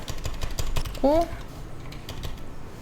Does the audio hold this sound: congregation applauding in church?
no